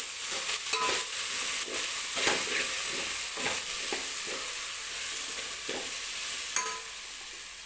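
Vegetable pulao is stirred in a hot pan after asafoetida goes in, making a continuous close sizzle broken by repeated scraping strokes of a spoon against the pan. No one speaks.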